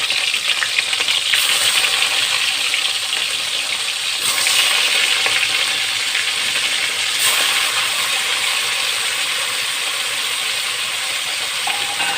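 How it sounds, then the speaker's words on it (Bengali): Fish fry in oil in a wok, a continuous bright sizzle with a few sharp spits and clinks over about twelve seconds, no one speaking. "আমি এবার কড়াইতে তেল দিয়ে দেবো মাছগুলো ভেজে নেবো"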